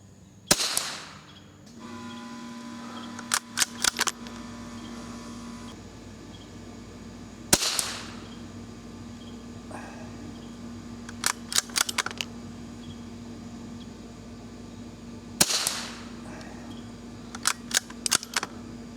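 Savage target rifle and Marlin hunting rifle shots at a target: three sharp, loud cracks spaced several seconds apart, each followed by clusters of smaller clicks and clatter from working the action.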